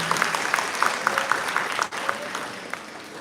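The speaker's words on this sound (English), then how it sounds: "Please give them one more round of applause." An audience applauds after a dance recital, a dense even patter of clapping with a few individual claps standing out, fairly steady for a few seconds.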